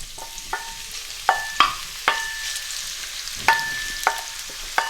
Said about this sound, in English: My oil is now hot, so in goes the onions.